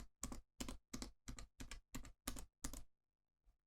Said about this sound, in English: I can enter a rising scale of chromatic notes by pressing the keys accordingly